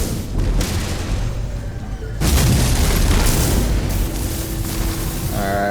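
An explosion destroys an enemy gun in No Man's Sky: a deep, loud boom erupts over a steady rumbling background and trails off into a lingering roar, with a faint tone near the end.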